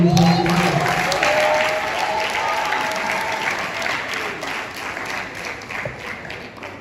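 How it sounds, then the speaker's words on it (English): Event audience applauding the advisor to the president at a CorpsAfrica Gambia pitch day, a loud, dense clapping crowd that slowly tapers over several seconds, with faint voices beneath. "Let's give a round of applause for them."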